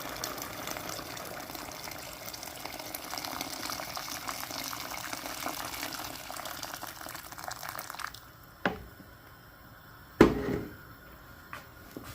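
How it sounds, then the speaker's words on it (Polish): Hot water poured into a simmering oyster mushroom and wood ear tripe-style stew, a steady close gushing and splashing for about eight seconds, then stopping, followed by a few sharp pot clanks. "dolewamy wodę. Przygotowaną oczywiście, gorącą."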